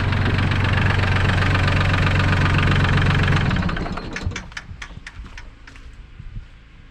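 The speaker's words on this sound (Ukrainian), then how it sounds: "Трошки воздуху було, нічого, він запрацював вже робить." A Solis 26 small tractor's diesel engine runs with a loud, rough, steady chug, then drops to a quieter, lumpy knocking idle for the rest.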